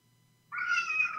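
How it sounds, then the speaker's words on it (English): A house cat gives a single drawn-out meow that starts abruptly and holds steady for under a second, close and clear against a quiet room with no talking. "Sounds like your cat."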